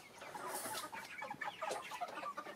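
Chickens and roosters cluck and murmur nearby, a soft continuous patter of short calls from several birds, fairly quiet and without talk.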